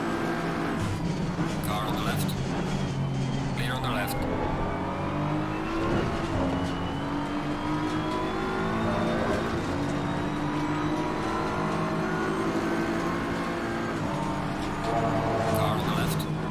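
A race car engine in a sim racing game at Suzuka drones and rises and falls steadily through gear changes, with other cars close by. A voice speaks over the engine throughout.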